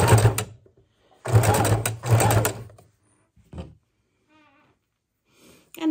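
A sewing machine stitching ribbon pieces onto a junk-journal snippet roll runs in two short, close bursts of rapid whirring, then gives a few softer mechanical clicks and turns before falling quiet.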